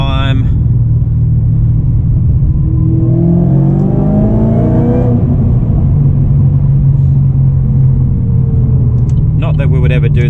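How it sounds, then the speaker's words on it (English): A car downshifts and revs its engine inside a road tunnel, the rising revs sweeping up and then falling back over a constant low rumble, with talking heard partway through. "you've always got to downshift in a tunnel and give it a rest. Give it a rev, not a rest."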